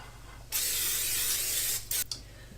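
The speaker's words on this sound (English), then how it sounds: "So I've just sprayed the Pyrex with Pam spray" A steady spray of Pam cooking spray onto a Pyrex glass dish hisses for over a second, then two quick short bursts follow, close and loud.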